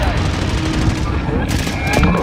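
Gunfire in Call of Duty: Warzone crackles as a dense, continuous volley of shots, with scattered bursts and a distant boom, partly under voices talking.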